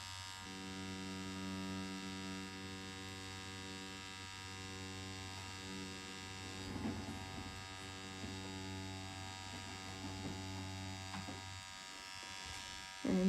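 A permanent makeup machine hums with a steady electric buzz while its needle works on an ombre powder brow tattoo, running continuously under a person's quiet talk.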